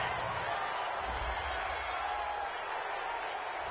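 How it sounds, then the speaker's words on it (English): A stadium crowd in a Madden football video game reacts to a roughing-the-passer penalty with a steady, muffled roar of boos and murmurs that holds level throughout. "this crowd does not like that call"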